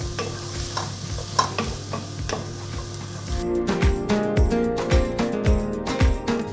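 Onion with crushed green chillies, dried red chillies, ginger and garlic being sautéed for a desi-style chicken macaroni, a steady sizzle giving way to rhythmic, close spatula scrapes and clacks against the pan, with no voices.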